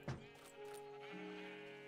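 A sheep in the Minecraft game, played on the FTB Revelation modpack, gives one soft, wavering bleat that trails off over a quiet, humming background.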